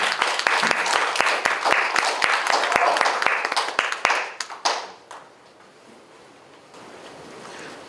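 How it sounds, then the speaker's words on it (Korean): Dense audience applause welcoming a lecturer at a Korean Teachers' Day academic event, many hands clapping loudly with sharp individual claps for about five seconds before fading quickly into quiet room tone. "이제 큰 박수로 정선영 교수님 모시겠습니다"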